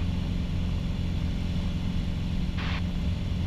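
Piper Arrow single-engine propeller aircraft at full power during climb, a steady loud engine drone with low harmonic rumble holding constant throughout, a brief higher-pitched blip near the end.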